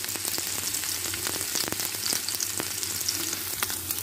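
Onions fry in a pan as they brown, giving a continuous close sizzle and crackle with light stirring scrapes and no talking.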